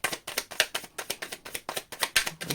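Tarot cards are shuffled by hand in quick crisp riffles and slaps, about a dozen sharp bursts in steady rhythm, close and fairly loud, with no talking.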